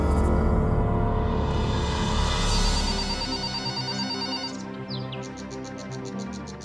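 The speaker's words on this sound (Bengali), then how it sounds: "পরিমল কাকা ফোন করেছে" A telephone rings with a loud electronic ringtone, repeated trilling tones rising at first and then continuing in a pulsed pattern, close and alone without speech.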